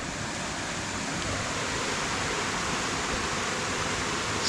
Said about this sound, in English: So there are a series of falls down here. I think that's Bemis Brook. Little cascades.